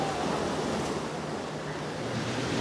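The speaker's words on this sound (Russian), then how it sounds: "Волны. Единственное, только волны." Sea waves wash steadily onto a beach at Novy Svet's Tsarsky Beach, a continuous broadband surf roar with light wind noise and no voices.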